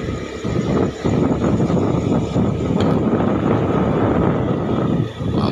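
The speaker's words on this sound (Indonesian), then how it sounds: "Jadi malam ini cukup kencang ini anginnya." Strong wind buffets the microphone on a city street at night, a steady broadband roar with a brief dip near the end and no voices.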